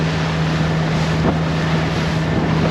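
Strong wind buffets the microphone on a powerboat at sea, making a loud, continuous roar over the steady low hum of the boat's engine.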